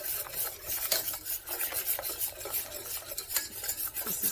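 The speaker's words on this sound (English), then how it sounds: "I'm going to turn this off again, and then just whisk this in." Chocolate chips whisked into a creamy keto mixture off the heat, a continuous close scraping and swishing of the whisk with quick repeated strokes, moderately quiet and steady, with no voices.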